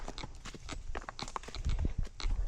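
Horses walk along a camp trail, their hooves clip-clopping in a steady, irregular rhythm close by, with heavier thuds toward the end and no talking.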